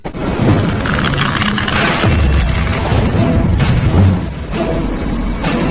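A blue-gold magical burst erupts in a Soul Land animated fight between Tang San and Qian Renxue, with dense, loud crashing booms and sweeping roaring energy sustained for several seconds, no talking.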